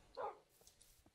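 A single short dog bark in a Minecraft game, faint and brief, followed by a couple of soft clicks in a quiet background.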